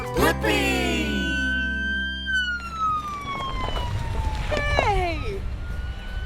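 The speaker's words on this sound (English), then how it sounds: "Look at what I just rode up in. Yeah, it's a police car." A police car siren wails in a long tone that glides slowly downward, loud and close, with excited voices over the start and another rising and falling siren sweep near the end.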